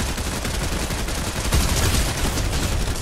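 Rapid gunfire bursts in The Joker video game form a dense, continuous rattle of shots throughout, loud and close with no clear gaps.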